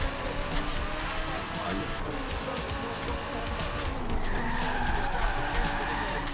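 A car in a racing video game runs with a continuous engine drone while its tires skid and squeal throughout. Voices talk over the noise.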